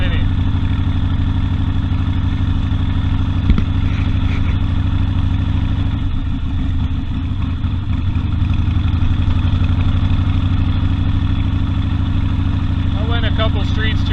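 A Harley Davidson Sportster engine rumbles while the motorcycle is ridden. The deep, loud, throbbing drone holds steady throughout, with wind noise and slight surges in the sound.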